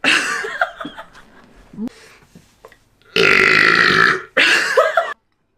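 A woman lets out two loud, drawn-out burps near the end, following soft laughter and giggling.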